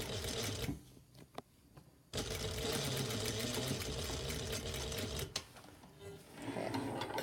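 A sewing machine stitches a collar for a button-down shirt, running in steady bursts with brief pauses as the stitch length shortens and the fabric is pivoted at the point; close and continuous mechanical whirring.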